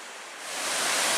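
Small waterfalls along a river beside a cliff-lined hiking trail, a steady broadband rush of falling water that swells slightly louder partway through and holds, with no voices.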